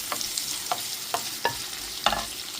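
Chopped onion dropped into hot oil with bay leaves, giving a steady low sizzle broken by several sharp scraping stirs of a spatula, close and fairly quiet.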